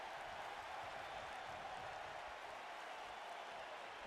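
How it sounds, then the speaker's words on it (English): Steady roar of a wrestling arena crowd cheering in a WWE 2K game, a dense wash of applause and voices holding at an even level throughout. "The crowd definitely behind the Young Bulls here."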